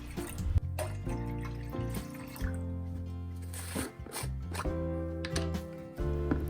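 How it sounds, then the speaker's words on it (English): Three cups of water pour into a small pot on the stove in a steady splashing stream, its tone shifting as the pot fills, with no talking. "add 3 cups of water."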